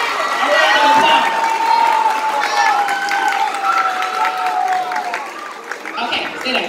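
Audience applause for parents at a middle school graduation, a loud, crowd-wide wash of clapping and cheering with whoops and shouted voices rising over it, gradually thinning toward the end.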